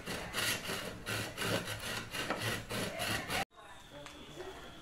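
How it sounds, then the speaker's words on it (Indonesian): A hand saw cuts through a bamboo segment with a fast, steady back-and-forth rasping rhythm, loud and close, ending abruptly in near-quiet. "Langkah pertama adalah memotong satu ruas bambu menggunakan gergaji seperti ini."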